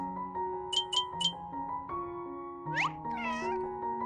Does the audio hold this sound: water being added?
no